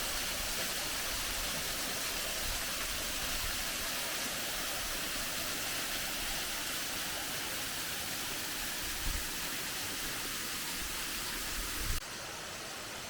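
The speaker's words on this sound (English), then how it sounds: "another beautiful Georgia waterfall, free falling at that" Contentment Falls, a free-falling waterfall in Toccoa, Georgia, roars as a dense, unbroken wash of rushing water heard from close by, steady and loud the whole way, with a brief bump or two near the end.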